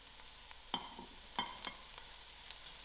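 Onions, leek, thyme and garlic frying in a pan, a gentle sizzle with a few sharp spoon taps and scrapes against the metal, quiet and close with no voices.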